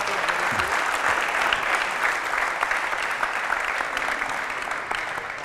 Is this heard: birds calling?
no